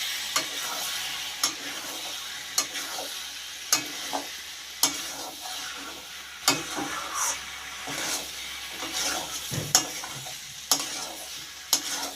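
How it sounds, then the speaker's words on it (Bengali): Potatoes and young jackfruit sautéed with spices in a pan, steady sizzling broken by regular scraping stirs of a spatula, close and clear with no talking. "এবার এতে আমি আলু আর এঁচোড়টা দিয়ে ভালো করে একসাথে কষিয়ে নেব"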